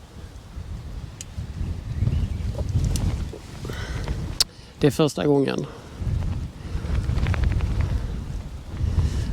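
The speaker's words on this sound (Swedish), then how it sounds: "Huvan fladdrar i vinden" Wind gusts flap a jacket hood outdoors at a wild campsite on the coast at Kåseberga, a close, rough, buffeting rumble with a brief sharper crackle near the middle, while a person talks throughout.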